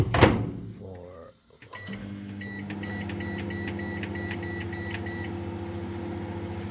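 A kitchen oven's timer is being set, producing a short series of evenly spaced electronic beeps over a steady low appliance hum, after a brief clatter at the start.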